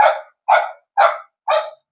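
Dogs bark at a housing relocation site, four loud, clear barks evenly spaced about half a second apart, close by with silence between them.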